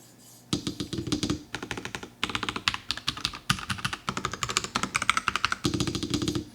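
Rapid clacky keystrokes on a NuPhy Halo 75 mechanical keyboard, close and crisp, in quick bursts with short pauses between runs of typing.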